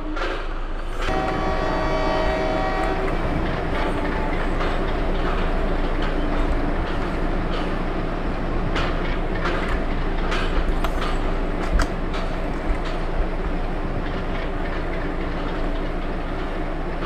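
A WDM3A diesel locomotive shunting at Vadodara Junction in the Open Rails train simulator, with a steady loud engine rumble and rolling wheel clatter throughout, a brief horn-like tone near the start, and no talk.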